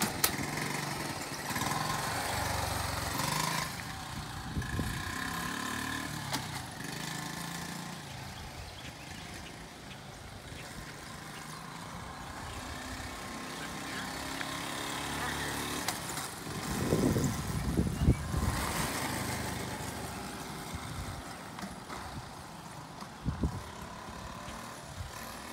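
The small engine of a 1978 Honda Z50A mini trail dirt bike runs during a short street ride, a steady buzzing drone at moderate distance with slight swells in revs, no talking.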